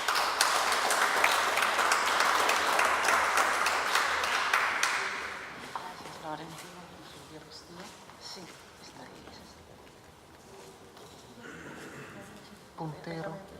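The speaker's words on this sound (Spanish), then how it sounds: "recibamos con un fuerte aplauso a la doctora Elizabeth Silvestre" An audience breaks into dense, steady applause to welcome Dr. Elizabeth Silvestre at an El Niño analysis and prevention session. The clapping lasts about five seconds, then fades into a quieter room with faint movement and murmurs.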